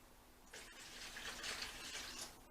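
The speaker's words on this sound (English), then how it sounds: "To this, I'm going to add 2 cups of water." Two cups of water poured into a lemon pepper chicken marinade for the pellet grill, a steady close splashing pour lasting about two seconds with no talking.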